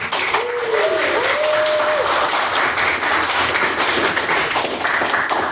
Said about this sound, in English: And so if we could please get a round of applause for the chief organiser of the event, Miss Chloe Ferguson.